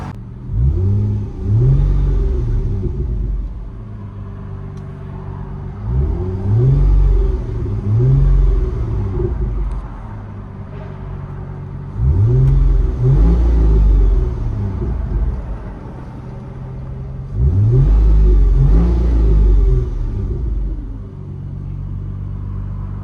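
1998 Plymouth Prowler exhaust heard from inside the car, a loud, close rumble swelling in four repeated revs with deep, rising engine tone between quieter idling stretches.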